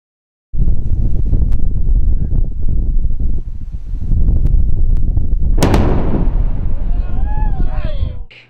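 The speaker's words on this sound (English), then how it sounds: "there was a big explosion, all to get rid of bombs from about 80 years ago" A massive deep explosion from the controlled detonation of unexploded bombs about 80 years old at Suicide Cliff roars in abruptly and rumbles on for seconds, followed by a second blast burst and debris-like crackle, loud and close with wind buffeting.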